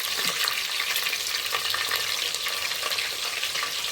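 Green chillies frying in hot oil in a clay pot for crab curry, a steady close sizzle and crackle running throughout with faint stirring.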